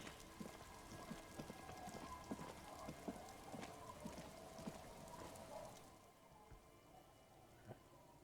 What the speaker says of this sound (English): Kids out playing in the rain.